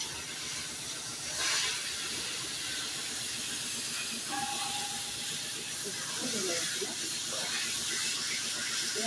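Taro greens hit hot oil in a pan over a wood-fired stove, giving a continuous loud hiss and sizzle as a voice speaks over it.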